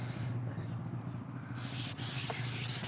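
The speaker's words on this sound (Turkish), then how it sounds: "Ara ara su dökerek zımpara yapıyoruz" Continuous rubbing and scraping of wet sandpaper on a car headlight, water added now and then, steady back-and-forth strokes, close and moderately loud.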